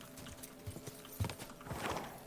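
Horse hooves clip-clop in Kingdom Come: Deliverance 2, a few uneven, fairly soft steps over a steady game ambience with no talking.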